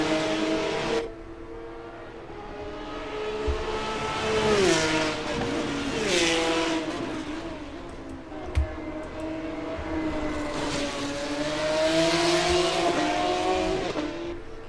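Race cars lap the Mid-Ohio road circuit in an AFRO NXT event, engines droning with rising and falling pitch as several cars pass and shift, a steady mid-distance roar with one sharp knock midway.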